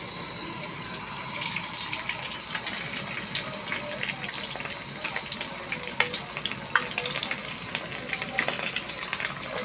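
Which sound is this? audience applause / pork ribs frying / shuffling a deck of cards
pork ribs frying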